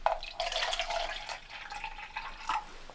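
Water being poured into a frying pan, heard as a steady trickling and dripping pour lasting a few seconds, close and moderately quiet.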